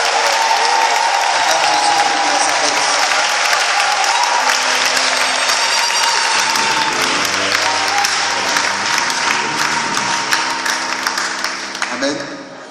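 A church congregation claps loudly together during a service, a dense sustained round of applause with voices and cheering mixed in, while music and singing rise beneath it partway through before the clapping fades out.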